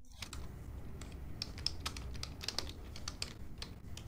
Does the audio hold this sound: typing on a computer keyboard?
yes